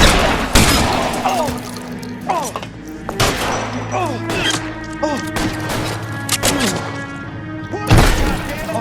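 Gunfire cracks out in a shootout in the video game L.A. Noire, loud sharp shots and heavy booms in uneven bursts over music, with voices shouting throughout.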